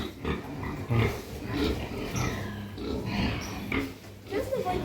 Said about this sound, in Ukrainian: Ось все такі поросята.